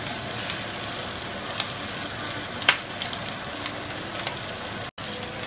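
Milkfish (bangus) fries in a pan with a steady, close sizzle of hot oil. A few sharp pops and crackles cut through, and no one speaks over it.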